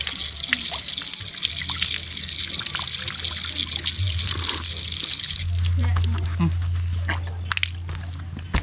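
Drinkable mountain stream water trickling on Mount Merbabu during a trail run, a steady, close, continuous flow with low rumbling background and people talking nearby.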